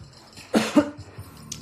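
A single close, sharp cough, followed by a brief raspy catch of breath in an otherwise quiet room.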